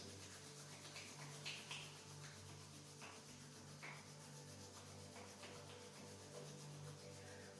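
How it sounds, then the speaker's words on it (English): Palms rubbing briskly together in a quiet yoga session, a steady continuous friction hiss that holds even for several seconds with slight swells, close and alone with no talking. "And rub your hands into each other."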